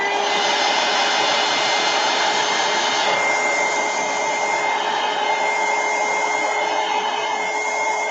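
A hair dryer blows steadily on an art journal page, a loud, continuous close-up whir with a slight shift in tone midway.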